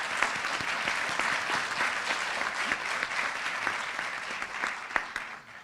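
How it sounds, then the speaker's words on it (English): An audience at a Veterans Day ceremony applauds in a steady, dense burst of clapping that fills the room and tapers slightly at the end. "Yeah, clap it up."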